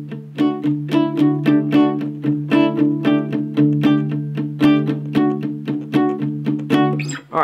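Intro riff to "Come Now Is the Time to Worship" on guitar, with suspension chords over a ringing low drone, each strummed chord struck clearly in a steady rhythm close to the mic, with no talking.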